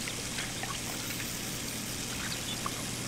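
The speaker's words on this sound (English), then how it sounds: "Oh, I love the sound of that ocean." Steady ocean water ambience in The Sims 3 Island Paradise, a soft continuous wash of waves with faint trickling and splashing detail, quiet and unbroken throughout.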